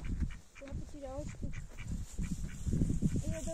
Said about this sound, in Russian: Вот так вот утки тут гуляют по дороге.